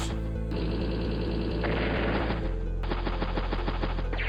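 Tank attack in the video game Advance Wars: Days of Ruin: rapid machine-gun fire rattles over a steady game music bed. The firing shifts in tone partway through the attack.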